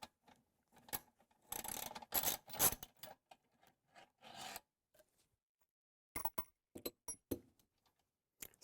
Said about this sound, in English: now that we've removed all the spring tension from the reel, we can go ahead and remove that center bolt